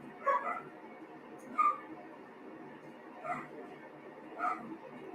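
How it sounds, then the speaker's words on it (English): Dogs indoors barking and whimpering, about four short yips and whines spaced a second or so apart over a faint background hum, moderately close. "my darn dogs are being loud right now."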